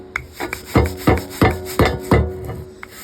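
A cast iron grill pan is scrubbed in firm, rhythmic strokes, about six close rasping scrapes in quick succession with short pauses between, loud and near.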